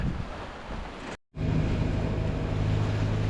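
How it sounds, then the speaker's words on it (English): Steady wash of surf and wind noise as whitecap waves splash against a rocky Lake Superior shore, a constant rushing roar broken by a brief dropout. "white caps hitting the rock, splashing on the rock all up and down the shore"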